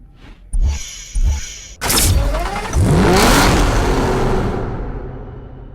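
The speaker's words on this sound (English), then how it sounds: "Aston Martin's most exhilarating sports car yet, the V12 Vantage, is the ultimate performance interpretation of the Vantage range" An Aston Martin V12 Vantage with a titanium exhaust in the Need for Speed Hot Pursuit video game: two short engine blips, then a loud, sustained rev that climbs and slowly fades, close and without talk.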